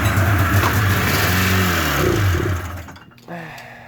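A 1995 Polaris Indy 500 carbureted snowmobile engine runs close and loud with rising and falling revs, then drops off abruptly before a short final burst.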